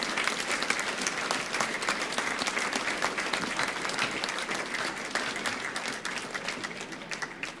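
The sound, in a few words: audience applause for original club committee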